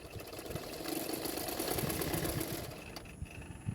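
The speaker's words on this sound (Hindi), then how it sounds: "दोनों शोल्डर को मैंने इसी तरह से सिलाई कर लूँगी।" Sewing machine stitching the shoulder seams of an unlined double katori blouse, a fast continuous mechanical whirr and rattle that runs steadily for a few seconds, fairly close.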